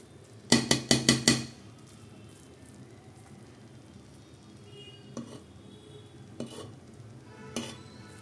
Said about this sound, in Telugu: వేసుకొని కింద నుంచి కూడా కలుపుకోవాలన్నమాట, లేకపోతే అడుగంటిపోయే ఛాన్సెస్ ఉంటాయి కదా